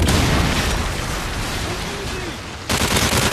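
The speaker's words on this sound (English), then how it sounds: "Friendly predator missile inbound." A predator missile strike in Modern Warfare 3 sends a loud, dense explosive roar and rumble that sustains, eases slightly, then surges again with renewed blast noise near the end.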